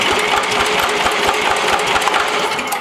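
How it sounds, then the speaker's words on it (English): An engine with no fuel yet turns over on the starter during a neutral safety switch check, cranking loud and close with a fast, even chugging rhythm. "Engine turns over pretty good."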